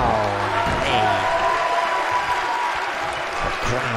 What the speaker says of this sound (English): The crowd coming alive for Bart Brute, the E.F.W. World Champion